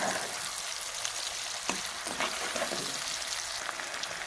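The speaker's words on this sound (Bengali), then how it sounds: "পেঁয়াজটা দেওয়ার পরে এটা আমাদের একটু লাল লাল করে পেঁয়াজটা ভেজে নিতে হবে" Onions frying in oil for a Bengali jackfruit and prawn dish, a steady dense sizzle throughout, close and even, with a few faint stirring taps and no voices.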